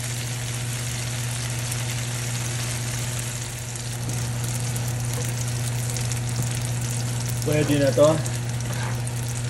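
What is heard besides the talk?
frying ingredients until golden brown for pancit luglog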